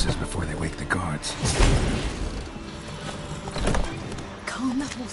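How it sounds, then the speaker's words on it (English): Horses in the Witcher 3 video game neigh and clop their hooves amid a busy in-game mix, with low booming rumbles and voices talking over much of it. "Gotta calm all the horses before they wake the guards."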